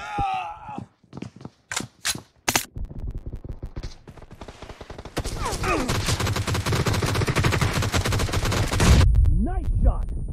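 Gunfire in a PUBG Mobile match: several sharp separate shots, then a long dense burst of automatic fire, loud and close, with game voice lines mixed in.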